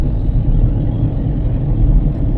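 A car cruises in top gear on a highway, with a dense, steady low engine and road rumble filling the cabin, constant and close with no talk.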